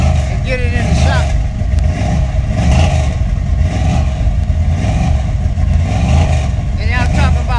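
The car Scrappy revs its engine loudly and close by as it is driven off a trailer toward a shop, a steady rumbling roar with clattering, while people talk over it.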